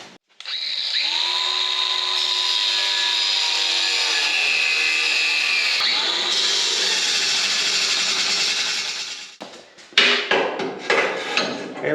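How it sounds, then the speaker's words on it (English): A power tool whines steadily for about nine seconds while cutting a square pocket up through the bottom of a steel car frame on a metric street stock race car, loud and close, then stops and gives way to short clattering metal knocks. "I am going to cut a square pocket up through the bottom of the frame"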